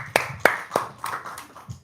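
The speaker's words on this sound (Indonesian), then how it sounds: "Wow tepuk tangan dong." A few separate hand claps from a small group, three or four sharp spaced claps followed by softer scattered ones, fairly quiet and close in a room.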